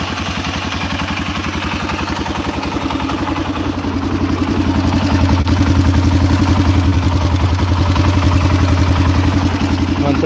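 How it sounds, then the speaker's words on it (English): A 2017 Arctic Cat VLX 700 ATV engine runs close by with a steady, throbbing low rumble that revs up slightly partway through and then holds, alone and loud. "Sounds really nice. Very torquey engine."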